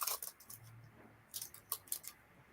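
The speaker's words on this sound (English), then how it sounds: "I'll admit I'm sitting here unwrapping a caramel." Crinkly caramel wrapper being unwrapped close by, a few sharp rustling bursts at the start and again in the second half, with quiet gaps between.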